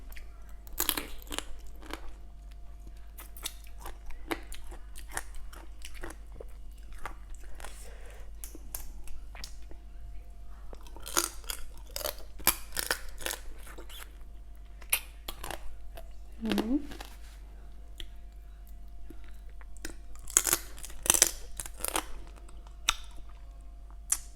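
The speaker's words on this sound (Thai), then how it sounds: "จักปูอย่างนี้ กรอบครับ" Crunchy dried crab shell is bitten and chewed close up, with repeated sharp crackling crunches in uneven bursts between quieter gaps, and a voice talking now and then.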